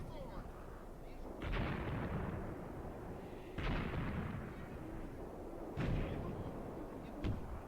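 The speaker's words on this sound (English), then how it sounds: "Oh shit, the Germans are shooting back, though." Artillery and gunfire trade in the Graviteam Tactics wargame: four heavy booming blasts spaced a couple of seconds apart, with rumbling decay over low background noise at moderate distance.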